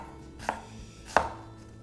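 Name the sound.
knife chopping vegetables on a board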